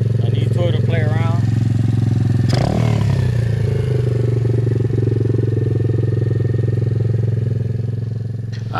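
Apollo dirt bike engine running close by at a steady, loud idle-to-rev drone, with a clattering scrape partway through and brief voices early on.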